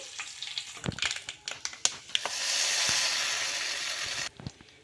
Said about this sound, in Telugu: నూనె అయితే వేడెక్కిన తర్వాత జీలకర్ర ఆవాలు కొన్ని మినప్పప్పు అలాగే కొంచెం కరివేపాకు వేసేసుకొని ఇంకా పోపు అయితే రెడీ అయిపోయింది